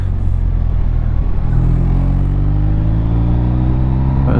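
A BMW R 1250 RT LE touring motorcycle accelerating along back roads, its loud low engine drone rising steadily in pitch through the gear, with heavy wind roar throughout, close and continuous.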